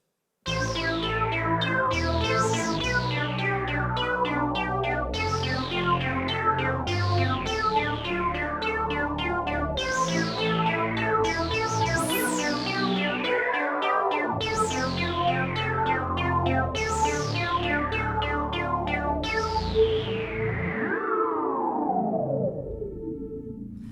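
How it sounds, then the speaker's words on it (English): An 80s synthwave patch on a Yamaha Montage M8x synthesizer plays a sequence of repeated sweeping tones in a steady rhythm, loud and alone, ending in a long fading tail. "this one is just a very much an 80s synthwave patch that I've programmed"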